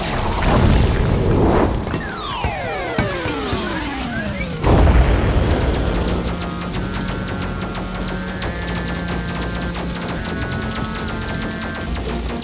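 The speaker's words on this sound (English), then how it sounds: "Oh, this level is pretty cool. It's got 8-bit music." Little Big Planet 2 level with 8-bit music: heavy booms and crashes with descending sweeps give way to steady chiptune tones, sustained notes and simple repeating melody, fairly loud throughout.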